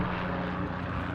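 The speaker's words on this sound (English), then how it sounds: "searching from helicopters." Aircraft rotor and engine drone from police helicopters searching overhead during a shooting response near Coeur d'Alene, Idaho; a steady, unbroken roar that holds at an even level throughout.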